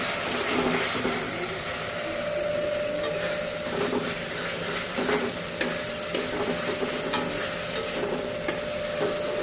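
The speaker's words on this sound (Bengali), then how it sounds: "তো আমি মশলাটাকে ভালো করে ফ্রাই করে নিলাম যাতে মশলার গন্ধ না আসছে" Spice masala frying in oil in a pan, a steady loud sizzle and crackle with stirring scrapes and small pops throughout, no talking.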